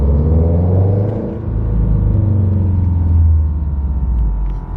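A 2022 Subaru BRZ fitted with UEL headers drives along, its exhaust giving a deep, loud, steady rumble that swells and eases slightly as the engine pulls, heard close from inside the car with no speech.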